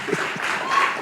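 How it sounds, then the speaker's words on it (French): Brief burst of audience applause welcoming a guest at a film club screening, moderate and fairly even, with a few faint tonal traces mixed in. "Veuillez applaudir pour le recevoir."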